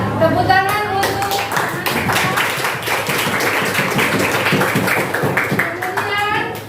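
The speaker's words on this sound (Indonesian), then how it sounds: "Ya, tepuk tangan untuk" A school class claps for a student group, brisk rhythmic clapping from many hands close by, mixed with children's voices and chatter throughout.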